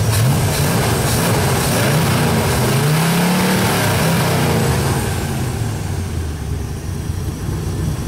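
Classic 1965 and 1967 Corvette Stingrays with V8 engines and side exhaust rev loudly and close by, a deep rumbling roar that swells and falls through several throttle blips, no talk.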